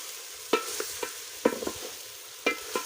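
Chicken simmering in a pot over an open fire in an African village, giving a soft sizzling bed with several sharp clinks and scrapes of stirring spaced through the moment, fairly close and without talk.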